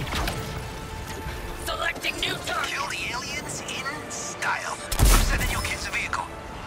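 Gunfire and booming shots from a large laser weapon in Suicide Squad: Kill the Justice League, steady combat noise with a heavy thump near the five-second mark, under someone talking over it.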